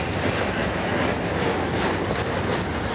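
A Florida East Coast Railway train rolls past close by, a loud, steady, broadband roar of wheels and cars on the rails that holds without a break.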